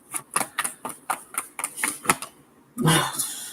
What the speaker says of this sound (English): Let me do some more shuffling.